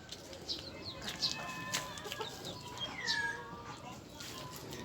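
Bantam hen clucking among poultry, soft repeated clucks and short calls close by, with people talking over it and other birds chirping faintly in the background.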